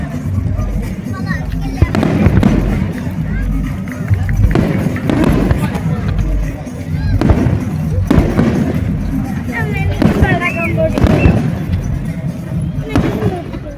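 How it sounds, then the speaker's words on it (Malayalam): Firecrackers bursting outdoors in Muscat, a series of sharp bangs and thumps scattered irregularly across the scene, with voices and crowd chatter running underneath. "ഉണ്ണിക്കുട്ടനും പടക്കം പൊട്ടിക്കണമെന്നും പറഞ്ഞായിരുന്നു."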